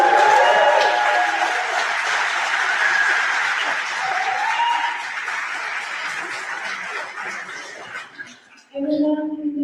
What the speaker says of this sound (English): Can I hear another one of those claps?